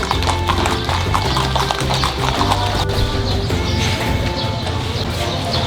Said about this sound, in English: I don't mind riding a horse, but you never know with them.